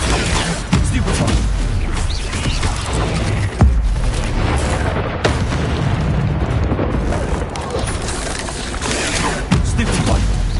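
Stupefy spell cast in the video game Hogwarts Legacy, loud booming magical blasts and bursts over dense, continuous combat noise, with a voice shouting the spell name.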